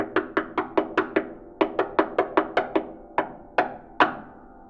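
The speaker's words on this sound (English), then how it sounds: "The percussive body knock effect gives a slightly more echoey tone than the soundboard" A series of resonant wooden knocks on a harp body made with the knuckles, in quick groups, each with a short echoing ring, clear and close with nothing else heard.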